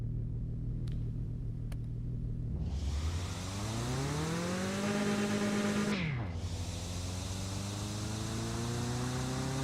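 A race car engine with a front-mount intercooler, turbo and blow-off valve runs loudly, revving up with a rising pitch, holding steady, then dropping off sharply before settling again, with no one speaking.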